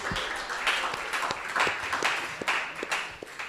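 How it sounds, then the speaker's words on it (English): An audience at a Vedic spiritual gathering gives a round of applause, a soft, fairly distant spread of clapping with a few sharper individual claps standing out. "Please give a big round of applause to them"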